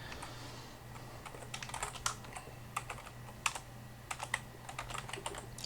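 Keys on a computer keyboard clack in quick, uneven bursts of typing over a steady low hum, close and moderately quiet, with no talking.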